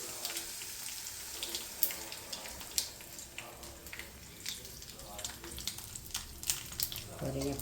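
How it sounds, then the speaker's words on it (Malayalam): Tamarind water poured into salted onions sizzling in a pan for sambar, a quiet running splash and gentle frying hiss with light clinks, close and soft. "എന്നിട്ട് നമ്മൾ പുളിവെള്ളം ഒഴിക്കണം."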